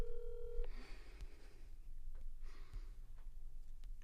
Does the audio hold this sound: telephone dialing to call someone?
yes